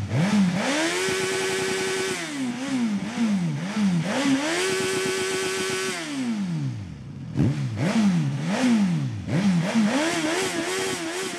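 A Suzuki GSX-S1000 motorcycle engine revs up and down repeatedly, rising to held high pitches then dropping back, loud and close with no talking.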